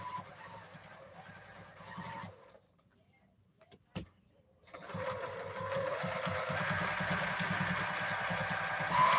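Domestic sewing machine quilting a queen size quilt, a fast whirring stitch that runs, stops for a near-silent pause with a single click, then resumes louder and steadier, heard up close without talk.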